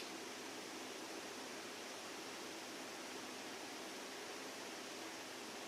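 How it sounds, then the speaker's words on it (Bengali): Water poured into a cooking pan with a potol and shrimp dish, a steady, even rushing hiss that stays constant and fairly quiet from start to finish. "একটু জল দিয়ে দিচ্ছি"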